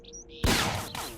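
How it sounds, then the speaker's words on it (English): A single loud, broad blast erupts suddenly after quiet, then a dense noisy tail decays slowly with a faint mechanical clack: a shotgun shot in S.T.A.L.K.E.R.: Joint Pak 1 Enhanced (Narodnaya Solyanka). "this is the sound of the shotgun anyway"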